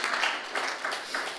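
A church congregation claps a round of applause during a sermon, a moderately loud, uneven patter of hands swelling in a few surges over a short stretch.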